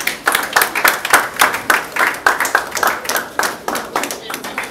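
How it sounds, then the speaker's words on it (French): An audience at a ceremony claps for an officer, a steady run of close, rhythmic hand claps lasting throughout, with a voice speaking faintly underneath. "Acclamons l'officier."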